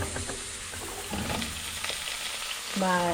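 Onions frying in a pot until golden brown for a beef stew, giving a steady close sizzle with a few stirring scrapes and a louder tonal clatter near the end.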